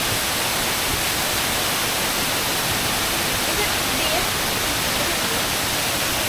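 Gitgit Waterfalls in Bali roar as a steady, loud broadband rush of falling water that fills the scene without a break.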